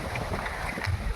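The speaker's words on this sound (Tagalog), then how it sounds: "Paano yung mga dahon kasi malakas ang hangin." Strong wind buffets the microphone along a seawall, a steady rumbling roar with gusty swells and no clear voices.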